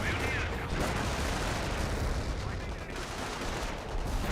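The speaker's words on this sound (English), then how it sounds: "Incendiary mortar rained a little bit short." Battle sounds from Company of Heroes, with explosions, incendiary mortar and artillery fire in a dense, continuous rumble and crackle of blasts and gunfire, loud throughout.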